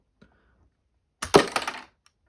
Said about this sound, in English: To launch this cannon, there's a button on the back, this red trigger. Pushing this fires the missile.